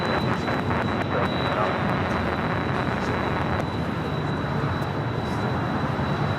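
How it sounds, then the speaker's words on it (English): A Spirit Airlines Airbus A320 jet taking off at Los Angeles International Airport, with a loud, continuous broadband engine roar that holds steady throughout and carries a thin high whine. "Next takeoff is Spirit Airlines Flight 2567 heading to Louisville, Kentucky in an A320."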